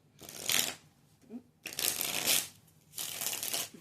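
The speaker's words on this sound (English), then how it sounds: "I have done some good shuffling." Tarot cards are shuffled by hand in three crisp, riffling bursts of papery flutter, close and fairly quiet, with short pauses between them and a faint voice in one gap.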